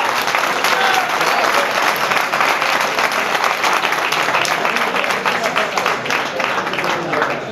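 Sustained, dense applause from an audience at a boxing weigh-in for cruiserweight fighter Alberto Tapia, steady and loud throughout with no pauses, and a few voices mixed into the clapping.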